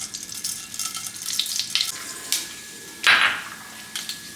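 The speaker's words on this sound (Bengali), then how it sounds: "গ্যাসের ফ্লেম ধরিয়ে দিলাম, মাস্টার অয়েল দিয়ে দিচ্ছি। প্রথমে মেথি ফোড়ন দিচ্ছি" Fenugreek seeds hit hot mustard oil in a pan over a gas flame, giving a steady crackling sizzle with sharp spits and pops and a louder burst of hiss near the end.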